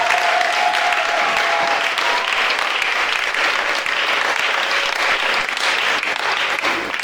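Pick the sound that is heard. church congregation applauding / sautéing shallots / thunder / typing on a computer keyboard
church congregation applauding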